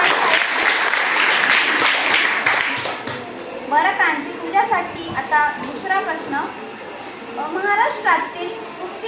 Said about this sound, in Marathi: क्रांतीसाठी परत एकदा टाळ्या